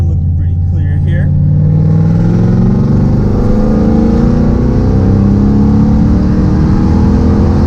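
LS-swapped Nissan Z31 300ZX turbo pulling hard under acceleration, a loud, steady engine drone climbing in pitch from inside the car for several seconds, with no talking.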